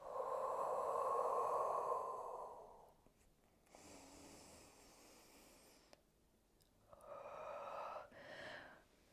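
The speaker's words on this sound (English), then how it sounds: "Exhale slowly, coming down." Slow, controlled exhalations during an at-home Pilates exercise, soft breathy rushes of air with a long breath at the start and another near the end, close and quiet with no talking.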